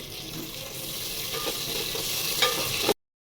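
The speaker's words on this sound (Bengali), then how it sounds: "দিলাম আদা রসুন বাটা এক চামচ দিয়ে সুন্দরভাবে ভেজে নিতে হবে" Ginger-garlic paste fries in oil with cardamom, bay leaf and cloves, giving a steady, fairly loud sizzle and hiss that continues evenly until it cuts off abruptly.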